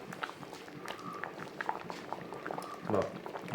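Tapioca boils in salted water in a pot, the soft bubbling and churning liquid faint and close, with a few clatters and a louder burst near the end.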